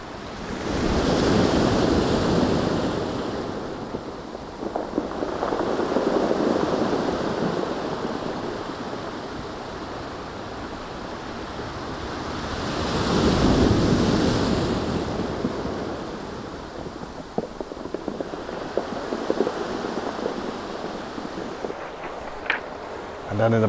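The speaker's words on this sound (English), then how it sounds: "listen to those rocks being pulled back into the ocean." Ocean waves surge onto a rocky Madeira shore and drag the stones back, with broad swells of roaring surf building and fading twice, followed by a rattling, clattering wash of pebbles under steady wind.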